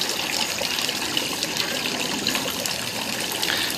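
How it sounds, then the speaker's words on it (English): Water trickling through a Better Homes and Gardens 3-tier fountain, a steady, close, soft splashing and dribbling that continues evenly throughout, with no talk. "new 3-tier water fountain. It's by Better Homes and Garden, I believe."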